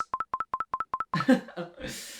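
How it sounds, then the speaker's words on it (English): A phone chimes with a rapid run of eight identical short Snapchat notification tones at an even rhythm, then a person starts talking. "your phone will literally be going off like this"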